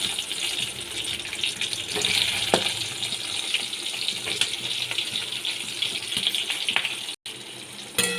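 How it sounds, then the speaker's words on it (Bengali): Eggplant pieces frying in hot oil with green chillies while cooking a hilsa fish curry, giving a steady, close, bubbling hiss with scattered crackles and pops throughout, briefly cutting out near the end. "এই তেলের মধ্যে আমি বেগুনগুলো ভেজে নেবো"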